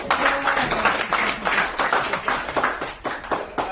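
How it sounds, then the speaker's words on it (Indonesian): Group clapping at an indoor training session, a steady, moderately loud round of many hands with slightly uneven rhythm and some voices underneath. "Tepuk tangan lagi dong"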